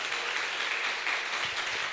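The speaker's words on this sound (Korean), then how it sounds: "이 시간 나와서 말씀 전해 주실 텐데 박수로 환영해 주시기 바랍니다." An audience claps to welcome a speaker onto the stage at a university event, a dense, even wash of applause that holds steady throughout, moderately loud and with no voices over it.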